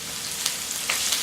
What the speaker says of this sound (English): You hear them sizzle? Shrimp cook very, very quickly.